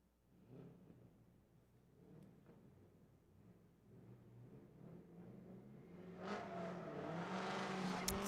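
A Formula Drift ProAm drift car engine revs under load at a competition, rumbling low at first and then swelling into a loud, sustained high-rev roar that builds steadily toward the end, with no voices.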